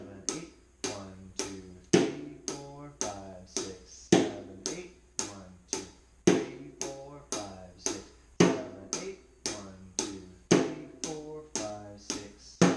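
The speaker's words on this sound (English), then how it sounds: "count number 7 with your left hand on the snare drum" A snare drum is struck steadily with the left hand in even, crisp taps that keep a regular pulse throughout, while a voice counts the beats aloud over the strokes.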